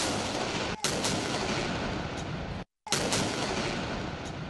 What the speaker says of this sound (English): The day dawned with a 31-gun salute in the federal capital and a 21-gun salute in provincial capitals.